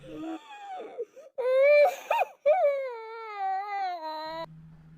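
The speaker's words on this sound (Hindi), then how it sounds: "उसे किसी औरत के रोने की आवाज़ आई" A woman crying in a horror story: a wavering, sobbing wail with rising and falling pitch, broken into several sustained cries with short gasping gaps, loud and close, ending in a low hum.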